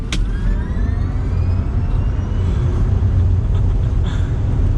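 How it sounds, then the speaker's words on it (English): Rivian R1T electric pickup, a heavy truck of about 7,000 pounds, accelerating hard in sport mode, giving a steady loud low rumble of road and wind noise with a faint rising electric whine throughout and no talking. "that was a good acceleration, and I would say it's adequate for the weight of this truck"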